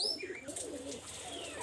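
Pigeons make soft, faint cooing and chirping calls close by in a loft where Teddy and Chinese Kamagar pigeons are kept, with light rustling under the calls.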